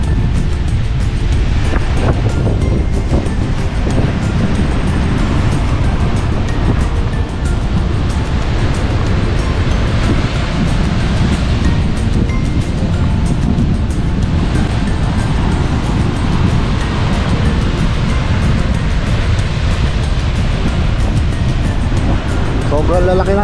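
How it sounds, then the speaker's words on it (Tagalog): Large ocean waves surging and crashing on a beach at Cabangan, Zambales, a steady, loud roar with wind buffeting the microphone throughout. "Sobrang lalaki ng alon."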